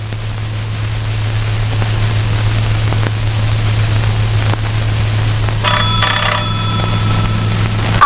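An old-style telephone bell rings in a house in a Pakistani film scene, a bright metallic trill bursting in partway through over a constant low hum and hiss, with no talking.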